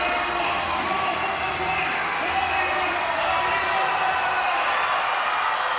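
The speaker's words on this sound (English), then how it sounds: "Home crowd getting right behind the men in blue." A home crowd at a Super League basketball game cheers in a steady, loud wash of voices, with a commentator talking over the noise.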